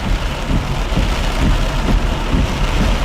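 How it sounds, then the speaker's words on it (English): Heavy rain pours steadily during Hurricane Helene on the Florida coast south of Tallahassee, a dense, continuous roar of downpour hitting surfaces close by with low rumbling underneath and no voices. "We have literally been in rain all day. Well, not this heavy."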